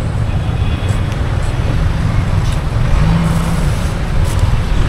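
Steady roadway traffic from cars, trucks and buses in jammed Philippine traffic with jeepneys, a continuous loud low rumble of engines with faint passing hiss and no clear voices.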